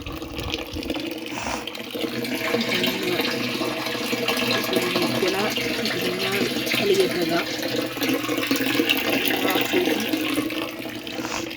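Continuous rushing and splashing of water pouring into an aquarium tank, steady and fairly loud throughout, with faint talk underneath.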